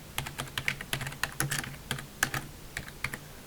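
Steady typing on a computer keyboard, sharp key clicks in a quick irregular rhythm with short pauses, close and clear with no talking.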